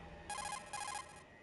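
The codec incoming-call ringtone from Metal Gear Solid: The Twin Snakes, an electronic tone in two short, bright trilling bursts, clear and close.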